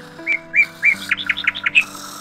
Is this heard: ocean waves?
no